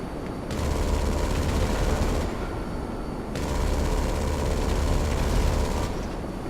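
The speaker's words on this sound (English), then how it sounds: "this explosive cannon doesn't seem to be very powerful" Rapid bursts of a B-11 Strikeforce plane's explosive cannon rattle in two long volleys with a short pause between, over a steady engine drone, in Grand Theft Auto 5.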